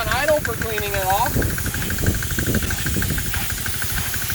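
A 4HP diesel pressure washer engine idles while spraying, giving a steady close rumble under a continuous hiss of water spray. A voice speaks briefly at the start.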